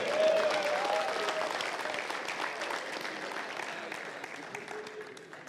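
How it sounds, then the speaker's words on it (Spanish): A church congregation applauds at a sermon, steady dense clapping from many hands that fills the room, starting strong and easing slightly as it continues, with no speech over it. "Vamos a darle un aplauso más fuerte a él."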